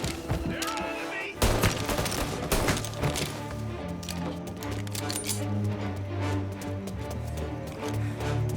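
Dense video-game gunfire from Mafia: Definitive Edition, repeated loud shots and bursts over a steady rumbling background, with voices shouting now and then.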